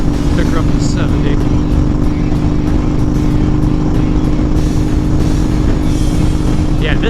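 Honda Fury motorcycle with Cobra Speedster exhaust and Powerflo air cleaner accelerating to 70 mph on a highway, a loud steady engine drone under heavy wind rush, heard up close from the rider's position.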